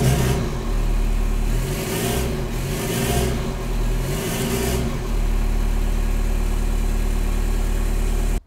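A 1.9L ALH TDI diesel engine idles steadily nearby, a continuous low rumble with a few mild swells in the first five seconds before settling into an even, unchanging idle.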